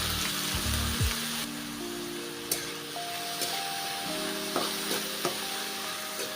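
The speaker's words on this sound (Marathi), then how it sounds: "लगेचच आपल्याला त्याच्यामध्ये कट केलेले वांगे आहेत ते टाकून घ्यायचे आहे" Cut brinjal pieces sizzle loudly in hot oil tempered with cumin, garlic and curry leaves in a wok, a steady hiss broken by a few sharp clinks of a spatula.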